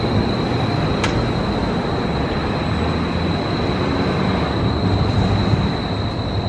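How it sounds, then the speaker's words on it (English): A vintage Portland streetcar rolls along its rails with a steady, loud rumble and a thin, high whine running throughout, heard from on board or close by and with no voices. "The old Portland streetcar."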